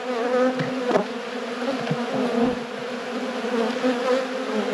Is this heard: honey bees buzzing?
yes